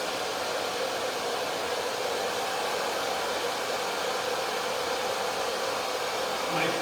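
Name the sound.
hair dryer drying curly hair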